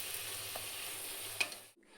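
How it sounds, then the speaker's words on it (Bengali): Luchi, puffed Bengali flatbread, frying in hot oil gives a steady broadband sizzle throughout, with a brief louder crackle near the middle before the sound cuts off abruptly near the end. "এখানে গরম গরম লুচি ভাজা হচ্ছে।"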